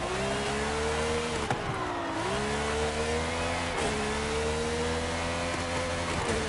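A car engine revving in a racing video game, heard as a loud, continuous high-pitched whine that climbs steadily, dips briefly at gear shifts and climbs again.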